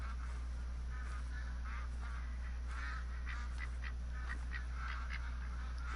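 Ducks quack in a string of short, nasal calls over a steady low hum of ambient noise while duck hunting in the Call of the Wild hunting game's New Zealand map.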